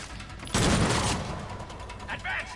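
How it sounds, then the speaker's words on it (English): Explosions and gunfire in the video game Agents of Mayhem: a sudden loud blast followed by a roaring, crackling wash of noise and scattered bursts of shots. "So explosions is what this guy can do."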